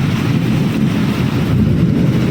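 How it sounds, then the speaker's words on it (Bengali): Strong monsoon wind drives rain against a house, a dense, steady roar of gusting air and spray buffeting the microphone, loud and unbroken, with no speech. "চরম হাওয়া দিচ্ছে তো, আর উলট পালট করে বৃষ্টি পড়ছে"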